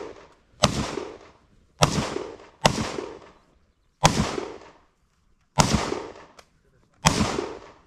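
SA-58 rifle fired during tactical shooting training, six loud, sharp reports with ringing decay tails, spaced unevenly about a second apart and heard close by with no talk between them.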